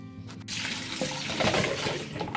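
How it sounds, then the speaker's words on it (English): Tap water running over frozen shrimp in a kitchen sink, a steady splashing stream that starts with a gush and keeps pouring loud and close. "I just took them out the freezer, so I'm just washing them off now."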